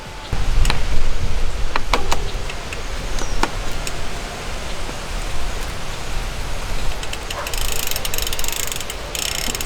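Mountain bike pedal being unscrewed from the crank arm, with quick ratcheting clicks and metallic ticks close by, a few sharp taps, and a brief burst of hissing near the end, no talking.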